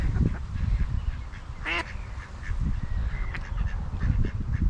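A duck near a freshwater fishing spot gives a clear, fairly close quack, followed later by a fainter second call, over steady wind noise and outdoor background.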